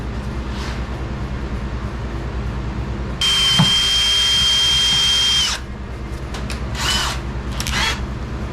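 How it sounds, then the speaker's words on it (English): A power drill whines steadily for a couple of seconds as it bores into a metal pistol barrel, then cuts out, followed by short bursts of the drill and workshop hum. "I'm going to go ahead and drill that hole."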